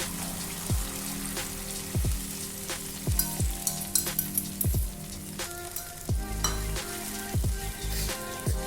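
Batter fries in a pan for a Marathi Pitru Paksha dish, a steady close sizzle broken by repeated scraping strokes of a spoon stirring at an uneven rhythm, with no voices.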